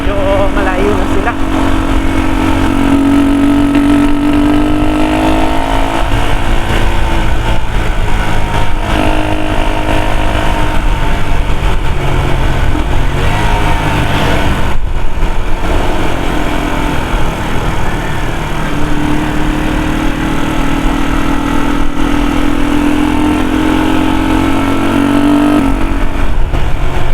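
A vehicle engine runs steadily on a mountain road, a constant loud hum with rising and falling tones as it works uphill and downhill, while people talk over it.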